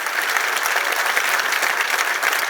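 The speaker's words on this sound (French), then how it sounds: "Je crois qu'on peut vous applaudir très fort" An audience at a conference on social insurance applauds loudly, a dense, steady wash of many hands clapping at once that holds evenly throughout with no voices over it.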